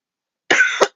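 A single sharp, close cough bursts out, followed quickly by a brief second cough.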